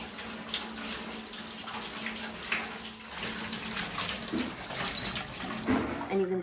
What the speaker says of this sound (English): And then give it one last rinse to get any of the extra pulp out.